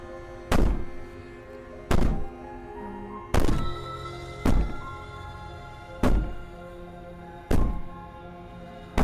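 Heavy banging in the horror game Slay The Princess: seven loud, deep thuds land at irregular intervals about a second or two apart, each ringing out briefly over a low droning background.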